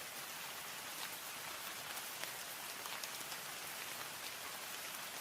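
Rain falls as a steady, even hiss of dense drops, faint and continuous throughout with no voices.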